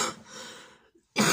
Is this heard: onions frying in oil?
no